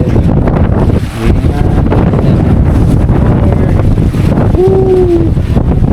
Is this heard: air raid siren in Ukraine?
no